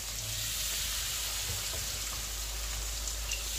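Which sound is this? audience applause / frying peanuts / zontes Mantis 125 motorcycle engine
frying peanuts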